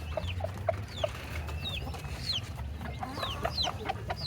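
Young pullets and hens clucking nearby: short repeated clucks and a few rising calls scattered over a low steady background hum, with no people talking.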